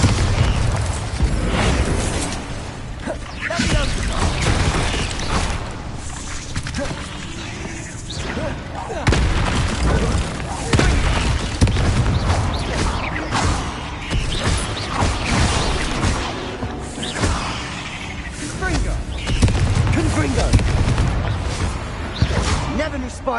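Bombarda blasting spell explosions in Hogwarts Legacy, dense repeated booms and crashing blasts amid heavy combat noise, with a voice shouting over the steady din throughout.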